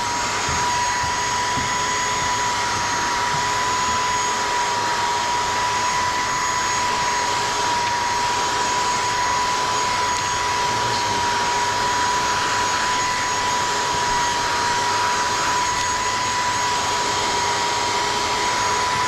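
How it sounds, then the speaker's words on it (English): A heat gun blows hot air while tint film is heat-shrunk onto the rear window of a Tesla Model 3, giving a constant, loud, close whooshing roar with a steady whine throughout and no talk. "just to allow it to float and hover right where you're going to place the heat gun"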